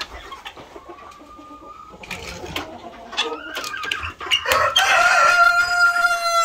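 A rooster in a backyard poultry pen crows loudly several times, the calls stretching out and overlapping with clucking hens and other fowl nearby, growing louder and denser toward the end.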